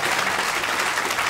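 A theatre audience applauds loudly and steadily at a live comedy podcast recording, with dense clapping filling the whole short moment and no speech.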